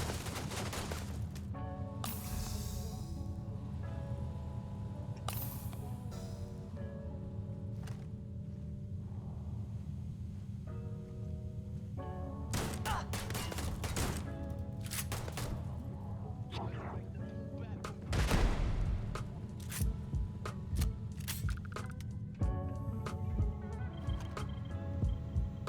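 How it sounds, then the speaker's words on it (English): Gunfire in a firefight on a moon base in the video game Starfield, with scattered shots and bursts over a constant low hum and game tones, heard at a moderate level. "Also me randomly finds firefight on a moon base."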